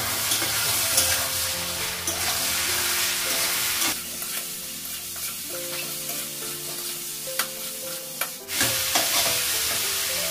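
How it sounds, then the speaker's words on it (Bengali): Cumin powder, salt and tomato fry in a pan, giving an unbroken, close sizzle with occasional sharper scrapes and knocks from stirring, and a tonal background hum running underneath. "জিরে গুঁড়ো লবণ, টমেটো আর একটু ভেজে দিলাম।"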